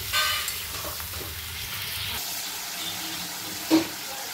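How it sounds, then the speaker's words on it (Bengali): Potatoes and pointed gourd sautéing with spices and a splash of water in a pan, a continuous broad sizzle with a soft stir and one brief knock near the end. "সামান্য পরিমাণে জল দিয়ে দেবো, ভালো করে কষে নেব।"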